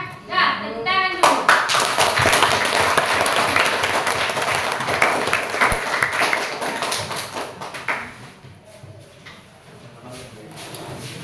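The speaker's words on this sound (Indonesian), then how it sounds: "tepuk tangan dulu" A class of students claps together in a classroom, starting with a few taps and swelling into sustained, fairly close applause that fades out after about eight seconds, with children's voices mixed in.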